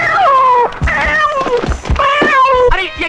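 A cat meows repeatedly in loud, drawn-out, wavering cries, several in a row with short breaks between them, close up and with no talking, in a Hindi-dubbed Bollywood horror film.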